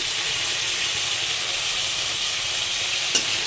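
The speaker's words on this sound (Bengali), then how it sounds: "ভালো করে নাড়াচাড়া করে একটু ভালো করে হালকা হালকা করে ভেজে নেব" Vegetable stalks frying in a pan with salt and turmeric, a loud continuous sizzle and hiss while they are stirred, ending in a single brief scrape or tap.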